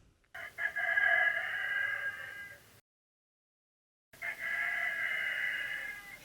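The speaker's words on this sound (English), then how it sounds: "so the rooster, I think, was his name Rodney?" A rooster crows in two long, loud calls separated by a brief silence, heard close and alone outdoors at an RV stop.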